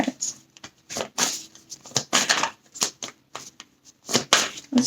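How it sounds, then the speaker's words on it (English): Tarot cards being shuffled by hand in repeated bursts of crisp riffling and flapping, close and fairly loud, with short pauses between runs. "A new start is coming, but I'll keep shuffling."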